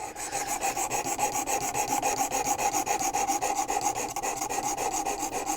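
Knife blade sharpened on a WorkSharp Precision Adjust, a loud, close, rhythmic rasping of steady back-and-forth strokes against the abrasive, with no talk.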